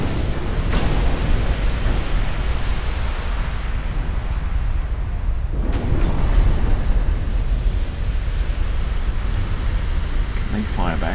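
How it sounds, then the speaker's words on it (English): Heavy rumbling naval gunfire and shell explosions from warships in the video game Ultimate Admiral Dreadnoughts, a dense continuous roar with a couple of stronger booming swells, loud and steady throughout. "Been a while since I've heard them fire."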